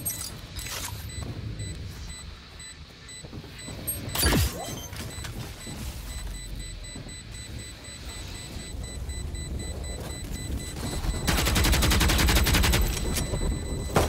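Gunfire in the Valorant-style video game, heard in a match on the map Split. A sharp loud shot lands near the start, then a sustained burst of rapid firing follows toward the end over a busy in-game soundscape.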